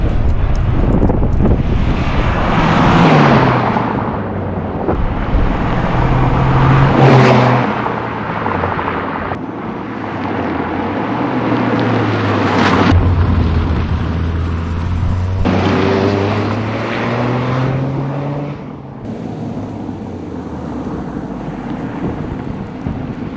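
Steady droning engine and road noise inside a 2024 Toyota Corolla GR Circuit Edition hot hatch on the move, loud and continuous, with the engine pitch swelling and easing as the revs change and a faint wind rush over the top.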